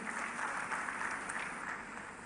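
Applause from a congregation at a funeral service, a steady wash of clapping at moderate distance that holds throughout without pause.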